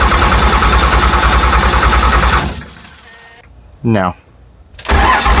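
A 1967 Ford F100 engine cranks loudly and roughly for about two and a half seconds, then cuts out to near silence, with a short spoken word and a final burst of cranking noise at the end.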